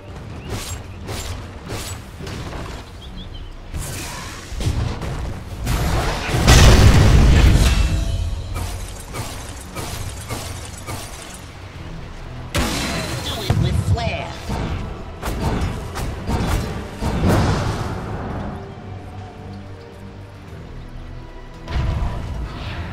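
Dota 2 match sounds as a tower comes under attack: repeated booming hits, thuds and mechanical creaks in a dense, loud battle mix, with an announcer-style voice speaking over it.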